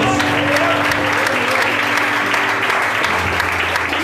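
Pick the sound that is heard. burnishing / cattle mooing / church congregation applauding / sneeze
church congregation applauding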